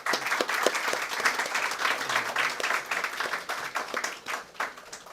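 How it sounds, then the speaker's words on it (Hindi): Loud, dense applause from an audience at a cultural awards ceremony, many hands clapping continuously with uneven peaks for several seconds. "जोरदार ताली"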